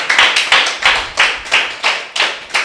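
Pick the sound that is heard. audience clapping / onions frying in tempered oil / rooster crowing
audience clapping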